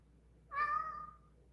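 A single clear cat meow, short and fairly quiet, rising then trailing off against a faint background hum.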